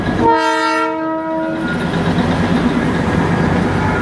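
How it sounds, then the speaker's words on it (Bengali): A toy train horn blares loudly at close range near Darjeeling, then the train rumbles steadily past with rattling wheels. "দার্জিলিং ঢুকতে না ঢুকতে চোখে পড়ে গেল টয় ট্রেন, অসাধারণ"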